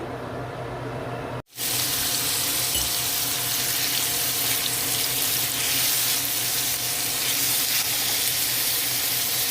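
Kale frying in a pan, a steady bright sizzle running nearly continuously after a brief cutoff near the start, close and fairly loud with no talking.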